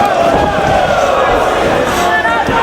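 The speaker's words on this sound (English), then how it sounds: "The crowd showing some support for the world champion." Wrestling crowd at a Ring of Honor show cheering for world champion Austin Aries, a steady dense roar of voices throughout with commentators talking over it.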